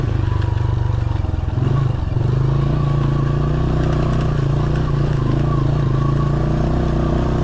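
A 1970s Honda XL Enduro trail bike rides along a wooded trail, its engine a loud, steady single-cylinder drone with clattering from the chassis and a brief dip in revs early on.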